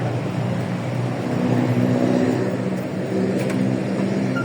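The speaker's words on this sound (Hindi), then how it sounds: "ये 91 मॉडल मेहरान आ गई है जी" A 1991 Suzuki Mehran petrol car with a reportedly new engine pulls up, its engine a steady nearby hum that swells slightly in the middle; no speech.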